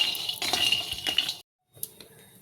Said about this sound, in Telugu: ఒక 2 స్పూన్లు పల్లీలు వేసుకొని ఫ్రై చేసుకుందాం అండి